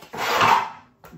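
A drawer on a Bosch Series 8 dishwasher slides with a single smooth rolling rush lasting under a second, followed by a soft bump.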